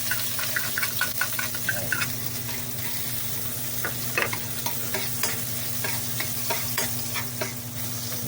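Garlic sizzles in hot oil in a pan, a continuous close frying crackle with a steady hum underneath and irregular clinks and scrapes of a utensil stirring, no voices.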